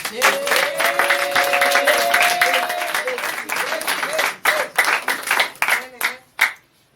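A church congregation bursts into loud applause with cheering voices, then the clapping thins into scattered bursts that fade out.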